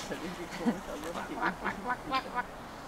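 Several raspy quacks from a male wild duck among visitors, in a loose series, fairly close, with faint voices murmuring underneath.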